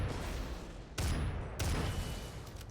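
Gunfire in the video game SYNTHETIK 2, two or three heavy loud blasts roughly half a second apart over a dense noisy game backdrop, no talk during the shots.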